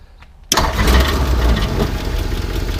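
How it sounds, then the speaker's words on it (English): A 1937 Ford Cabriolet V8 with a cracked exhaust manifold cranks briefly after a quiet moment, then catches and settles into a loud, steady, rumbling idle up close. "So we'll go ahead and start it up here real fast for you."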